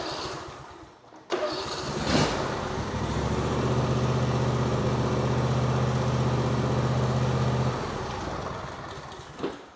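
A car engine, just repaired after starter and choke problems, cranks briefly and catches, then settles into a steady, close idle hum before cutting off.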